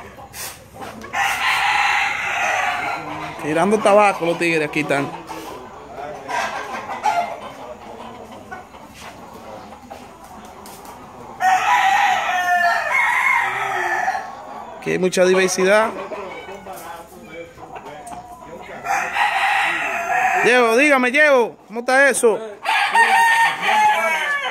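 Roosters crow repeatedly, loud and close, with hens clucking in between, as men chat in Spanish over the birds during a gathering among friends.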